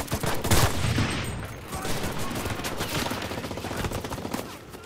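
Dense gunfire fills a battle in the World War II shooter game Enlisted, rapid overlapping shots and machine-gun bursts, loud at first and continuing steadily throughout.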